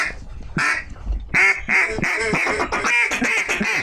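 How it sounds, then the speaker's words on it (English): Wild ducks quack in a rapid series of raspy calls during an Arkansas duck hunt, close and loud, with several quacks in quick succession. "Somebody shoot that duck, shoot that duck"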